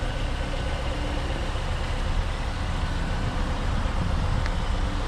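Mazda MX-5 Miata NC1 engine running in a steady, continuous drone, moderately loud and unbroken, with no voices.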